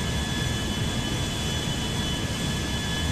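A jumbo jet's engines drone in GTA V as a steady, dense, continuous roar with a faint high whine, unbroken and even in loudness throughout.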